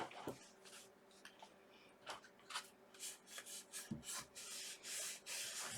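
Leather laid over a box being rubbed by hand to press out air pockets, producing close, soft repeated swishing and scrubbing strokes that grow busier toward the end.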